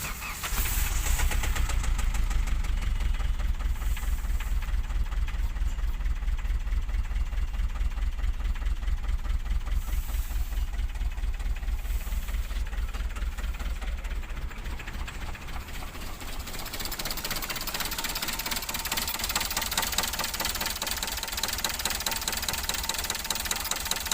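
A Hyundai i20 diesel engine runs steadily with a harsh, abnormal knocking clatter and a deep rumble, close and loud throughout, with no talking over it.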